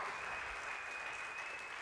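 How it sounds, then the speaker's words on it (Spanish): A congregation applauds in church, a steady, even wash of clapping at moderate distance, continuous throughout with a faint sustained tone beneath and no voices. "Le das aplauso"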